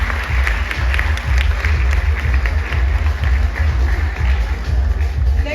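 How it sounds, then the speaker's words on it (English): A large crowd at a brand and influencer summit applauds steadily, a dense wash of clapping that stays loud and even throughout. "big round of applause"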